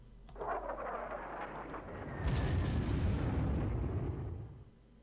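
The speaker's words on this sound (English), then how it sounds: "Simply go ahead and bomb them a little bit." Bombing explosions in the World War II strategy game Panzer Corps: a continuous rolling barrage of deep, rumbling booms that swells louder about halfway through, then cuts off to a quieter tail.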